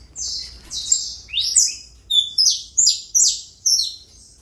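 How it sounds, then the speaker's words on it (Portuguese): A Granadinha canary sings close and loud, a string of bright, rapid chirps and trilled phrases in quick, evenly spaced bursts, with no talking. "Muito fibrado, canarinho."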